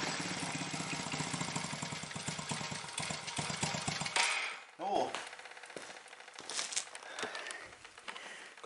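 A repaired ATV engine runs with a rapid, uneven chugging idle that then drops away, leaving fainter mechanical rattles and rustling close by.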